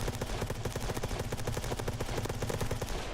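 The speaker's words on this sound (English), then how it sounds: "that's suppressed fire, and I can hear it clear as day" Rapid suppressed gunfire in Escape from Tarkov on the Customs map, a steady run of muffled, evenly spaced shots that go on without a break and sound fairly distant.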